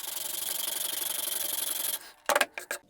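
Walnut wood being sanded into fine dust, a steady rhythmic rubbing scrape that runs close and loud for about two seconds, then stops and gives way to a few short sharp knocks and scuffs.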